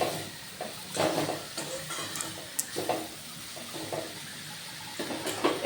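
Pumpkin leaves and prawns are stirred in a pan, soft scraping and shuffling strokes in irregular bursts over a low sizzle, close and fairly quiet.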